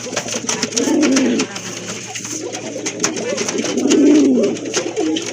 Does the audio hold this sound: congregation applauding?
no